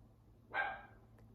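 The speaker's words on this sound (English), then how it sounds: "My doggie Ellie is cheering you on" One short, sharp bark from a pet dog indoors, moderately close and alone against quiet room noise.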